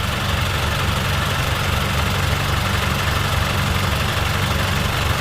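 A dump truck fitted with a solid axle idles with a steady, dense low rumble and faint knocking vibration, close and continuous throughout.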